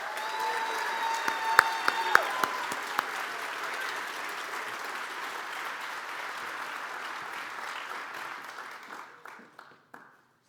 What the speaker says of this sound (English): Another round of applause for this year's award winners.